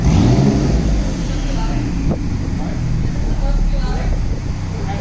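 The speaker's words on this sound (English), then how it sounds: "Is that just open downpipe? Yeah, that's open." Kawasaki Sho engine with open downpipes revving steadily and loudly up close, a continuous deep exhaust drone with talking over it.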